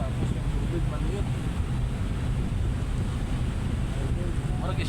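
A small skip boat passes on the water in a steady wash of engine rumble, lapping water and wind buffeting the microphone, with a few faint voices in the background.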